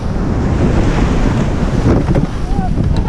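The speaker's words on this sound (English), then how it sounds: "Some bigger white water hitting now." White water waves break against a surf boat at sea during a New Zealand under-19 surf boat race, a loud churning wash overlaid with heavy wind buffeting the microphone.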